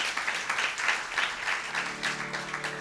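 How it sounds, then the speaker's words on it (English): Applause from an audience at a venue celebrating a new bhajan album, honouring the host, with brisk clapping and a faint background voice near the end. "let's have a round of applause for Chandni for hosting so wonderfully"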